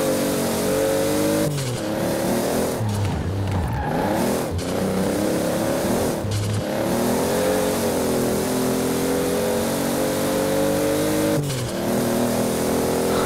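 A human voice imitates the engine of a BPU Supra in Forza Horizon 4, a continuous close revving drone that rises and falls through gear changes with brief breaks between pulls.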